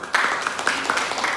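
A classroom of students claps their hands in a brief burst of applause: quick, uneven, overlapping claps close by, lasting about a second.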